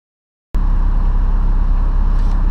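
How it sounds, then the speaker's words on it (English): A Honda Accord with a K24 engine idles steadily with the air conditioning and power steering running, a loud, even engine drone that begins abruptly after a brief silence and continues without talk. "as right now the car is running with the AC on, power steering."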